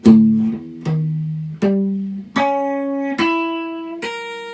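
Single guitar notes are plucked one at a time in a stepped finger drill, climbing steadily higher across the strings, each note clear and ringing before the next, with no voices.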